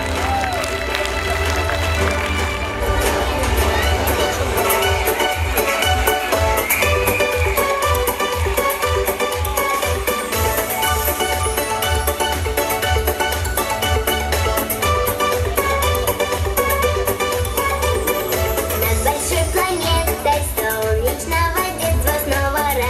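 Audience applause in a school hall at a Teachers' Day celebration as honoured guests take their seats, steady dense clapping throughout, loud and sustained, with music playing underneath.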